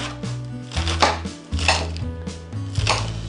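A knife chops cabbage for kimchi on a cutting board, with a series of close, sharp thuds in an uneven rhythm, about six or seven strokes and no voices.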